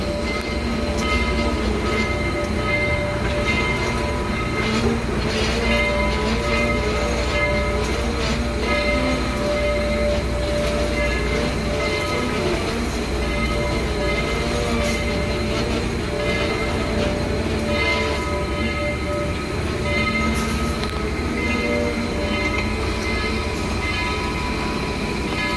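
Passenger train ride aboard a steam excursion hauled by Southern Railway locomotive 4501, with a steady loud rumble and clatter of rail cars rolling along the track throughout, no talk.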